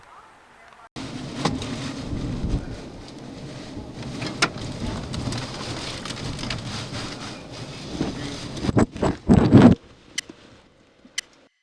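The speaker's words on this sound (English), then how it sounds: "This is an ugly storm that you saw coming in." Heavy rain from the 2020 Iowa derecho storm pours steadily as a dense, loud hiss, broken by sharp cracks and bursts of thunder or debris impacts that grow louder and more frequent toward the end before it cuts off.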